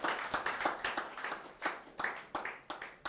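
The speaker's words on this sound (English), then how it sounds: "I thought that would attract an applause" Scattered, uneven hand claps from an audience at a university press briefing on rankings, a few separate bursts spread over a few seconds rather than full applause.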